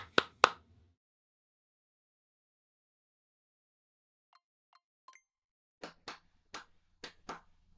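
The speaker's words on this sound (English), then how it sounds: "I just clapped." Sharp, close hand claps, first a quick pair, then after a silence a few faint taps and a steady run of six evenly spaced claps in a quiet room.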